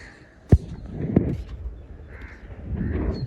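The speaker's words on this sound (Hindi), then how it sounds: "कौवा बैठा है।" A crow perched on a rooftop gives two sharp, close caws followed by fainter calls, with wind or ambient outdoor rumble underneath.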